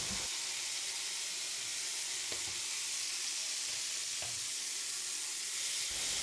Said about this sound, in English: Add the 3 heaped teaspoons of chopped garlic to the pan.